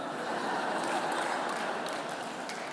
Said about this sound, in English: I didn't expect to get claps for that